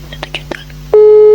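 A telephone busy signal sounds as a call is placed: a loud, steady electronic tone cuts in abruptly after a moment of soft, murmured voice.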